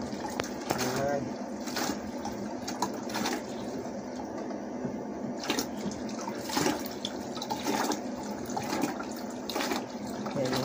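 Clean water pours and splashes steadily into an aquarium, a continuous gurgling stream close by, with a voice speaking now and then over it.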